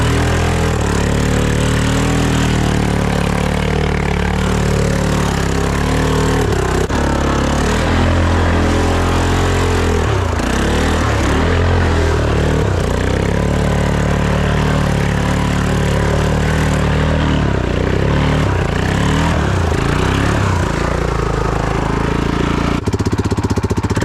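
A Yamaha Grizzly ATV engine in bad condition and smoking heavily runs loudly and close for the whole stretch, with a rough, throbbing note that revs up and drops back several times.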